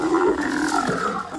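A recorded lion roar played back through a small camera speaker, one loud, throaty sustained bellow with a rough, slightly tinny edge, heard alone without talk.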